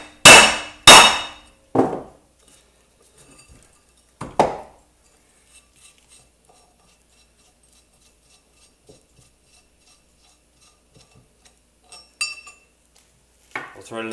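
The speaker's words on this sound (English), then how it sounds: "so you can just set it on a nice flat surface and hammer it out" Several sharp metallic hammer strikes drive a wheel stud out of a Subaru 4x140 rear hub resting on a flat surface, three quick blows up front then a lone hit, with quieter clinks and near-silence between.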